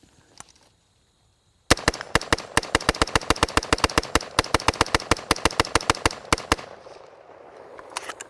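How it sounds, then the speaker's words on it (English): A gun emptying a 30-round magazine in one rapid burst, sharp loud evenly spaced reports after a brief quiet start, ending abruptly with faint ambient noise afterward. "I'm gonna do a good old-fashioned mag dump with 30 rounds."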